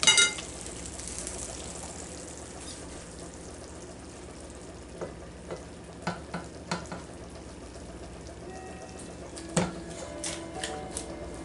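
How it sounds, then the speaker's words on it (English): Beef spaghetti sauce being poured back over drained pasta in the same pot, a soft wet sizzle and slosh with scattered small clinks and splats, fairly quiet and close, no voices. "I'm going to take my sauce"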